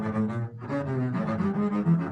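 Double bass bowed stiffly and tensely, producing choked, unclear notes in a short, dense, muddy phrase, close and moderately loud with no talking.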